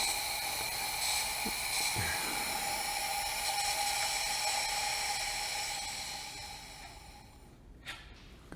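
Compressed air hisses steadily out of an engine's exhaust during a cylinder leakdown test, pointing to a leaking exhaust valve. The hiss is loud and continuous, then cuts off near the end with a few faint clicks.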